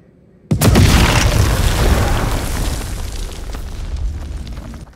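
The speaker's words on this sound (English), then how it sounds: "I'm pretty sure all the monsters heard that explosion." A sudden deep boom from an explosion in the horror video game House of Ashes, erupting loudly after a quiet moment and rumbling on with a long, slowly decaying roar.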